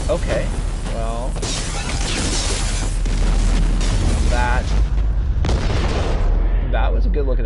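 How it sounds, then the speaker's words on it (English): Explosion in the video game Mass Effect 2, heavy booming blasts and crashing rumble layered over game sounds, loud and continuous, with voices talking over it. "that was a good looking explosion for a video game."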